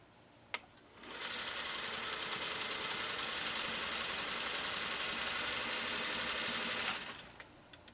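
A vintage 1956 Singer 401A sewing machine runs a stitch pattern with a steady, close, fast mechanical whirring. It holds for about six seconds, then stops, with faint clicks before and after.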